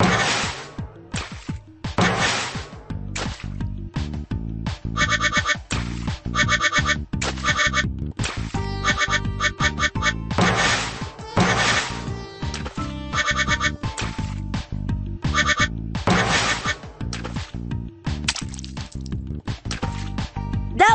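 Rubber duck quacks and squeaky collecting sounds from a Bubble Guppies children's video game play in quick repeated bursts over upbeat game music, close and continuous, with no talk.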